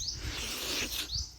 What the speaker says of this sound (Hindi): चिड़ियों की चहचहाहट की आवाज़ आपको सुनाई पड़ रही होगी